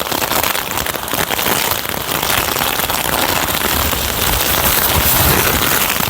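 Heavy rain pours down steadily on a village, a loud, dense, unbroken hiss of water drumming on surfaces nearby with no pauses.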